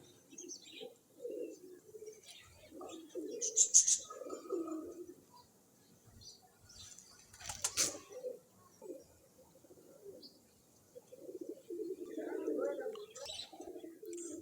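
Flying-breed pigeons at a pigeon club in Chishtian coo in soft, low, repeated murmurs with a few brief chirps, fairly close and fluctuating in loudness across the whole stretch.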